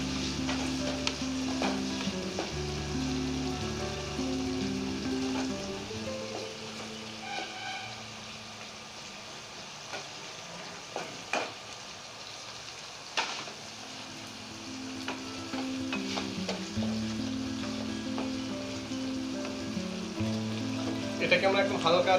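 Capsicum, chopped tomato and green chilli fry in a pan for egg chilli with a continuous crackling sizzle. Stirring thumps and scrapes come and go, and spoken words sit faintly underneath.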